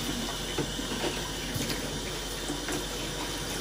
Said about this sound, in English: now I just rinse this out